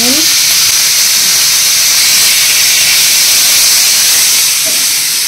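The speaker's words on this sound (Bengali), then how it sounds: "চিকেনটা ফ্রাই করা হয়ে গেল" Chicken fries in a pan with a loud, continuous crackling sizzle and hiss, steady and close throughout with no pauses.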